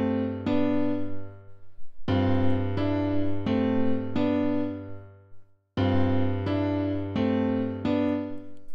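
Emotional-style melodic pattern played on the FL Keys piano plugin in FL Studio, clean sustained chords struck in a steady repeating rhythm, loud and alone with a brief pause before the phrase restarts.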